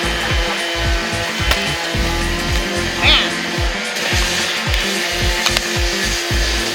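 A power sander works the hull of a boat, a close, gritty whirring that pulses in a rapid uneven rhythm as it presses into the surface, with a few brief higher squeaks over the grinding.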